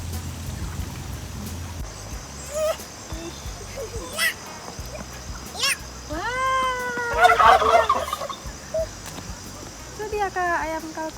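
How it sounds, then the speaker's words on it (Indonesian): Turkeys at an outdoor animal attraction gobble in short, warbling bursts, loudest in a cluster near the middle, while people chatter over and between the calls. "itu dia kak ayam kalkunnya kak"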